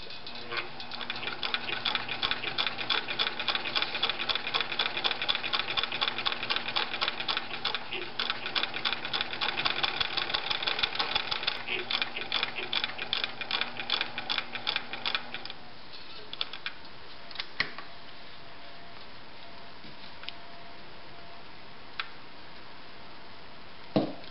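A Bernina Record 730 sewing machine runs a straight stitch with a rapid, even mechanical clatter of needle strokes for about fifteen seconds, then slows and stops, leaving only a few faint clicks and handling sounds.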